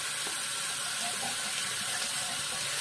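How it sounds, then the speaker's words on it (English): A shaving brush is rinsed under a running bathroom tap, producing a continuous, fairly soft rush of water with slight splashing changes as the brush moves through the stream. "let me rinse off my brush a little bit here"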